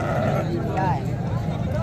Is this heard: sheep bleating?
yes